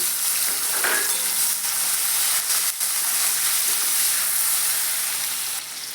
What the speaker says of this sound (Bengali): দিয়ে দেবো একটু লবণ আর দিয়ে দেবো একটু হলুদের গুঁড়ো দিয়ে চিংড়ি মাছগুলো দিয়ে ভেজে নেব